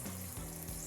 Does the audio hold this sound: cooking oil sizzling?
yes